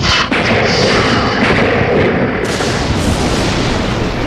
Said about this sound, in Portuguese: Ele pode passar pela parte interna da casca, vaporizando a seiva e fazendo a casca explodir como uma granada.